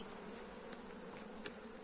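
Honeybees buzzing steadily close by at an open hive during inspection, a dense continuous drone with small flickers of individual bees passing.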